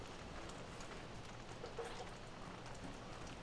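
Steady rain falls in a farming video game, a soft, even hiss spread across the whole moment, faint and continuous with no talk over it.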